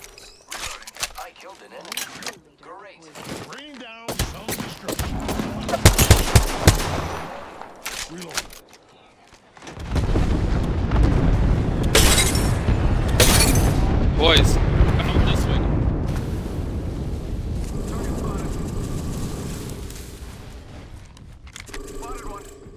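Rapid bursts of gunfire from the Apex Legends video game, dense volleys and sharp shots crowding together loudly, with a roaring blast-like stretch midway that sustains and slowly fades, under brief in-game voice callouts.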